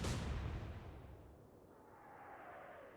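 Heavy naval guns fire in the naval warfare game Atlantic Fleet: one booming broadband blast at the start, then a long rumbling decay with a faint whistling tail, loud and with no talking over it.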